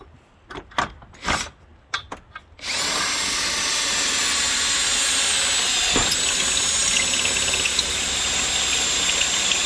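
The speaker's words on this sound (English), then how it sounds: "So I'm going to go ahead and drill our hinges now." A few short clanks and knocks give way to a loud, steady power drill whirring continuously up close for several seconds while drilling fence gate hinges.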